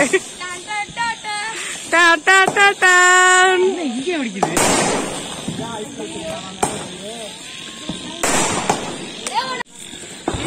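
Diwali firecrackers whistle, crackle and burst in rapid succession, with people shouting and cheering loudly between the bangs.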